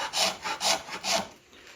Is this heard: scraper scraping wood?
yes